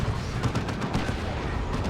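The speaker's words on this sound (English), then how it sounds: "D-cannon getting a big hit on the scouts" Heavy cannon fire and explosions from a Dreadnought's D-cannon hitting scouts in the strategy game Dawn of War 2, a dense barrage of booms and rattling blasts.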